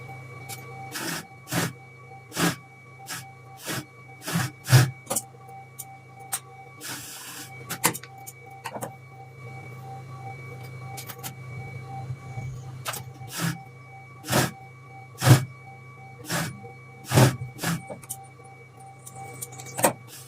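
A sewing machine stitches a roughly 2 cm hem on the sleeve of a child's pajama, running in short, sharp mechanical bursts spaced about a second apart over a faint steady hum, with no talking.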